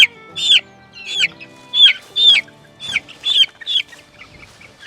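Meat chickens in a brooder give a series of close, loud clucks and short squawking calls, about ten bursts with brief gaps between them and no voices.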